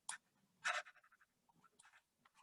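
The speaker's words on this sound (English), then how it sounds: "Let me erase this real quick." Short scratchy strokes of something wiping writing off a board, a few quick brisk swipes followed by fainter rubbing, close and quiet with no talking.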